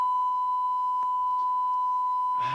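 Two identical pure tones played in the same phase for a physics interference demonstration merge into one steady, loud beep that holds unbroken for the whole clip.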